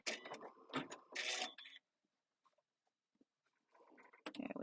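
A Janome sewing machine stitching satin stitches over straight stitches in cutwork, short bursts of rapid close mechanical whirring separated by a quiet pause, then starting again.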